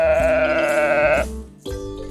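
A sheep bleats loudly and up close in a long wavering cry, followed by a shorter second bleat after a brief pause.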